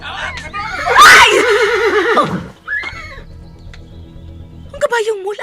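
A horse, Prince Numara's horse, lets out a loud, close whinny with a wavering, descending neigh, followed by brief quieter calls and another short whinny at the end, with voices around it.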